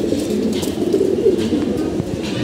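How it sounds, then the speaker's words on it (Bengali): Pigeons coo steadily in a loft, a continuous close murmur of overlapping low throaty calls with no talking. "আমাদের কবুতরগুলা"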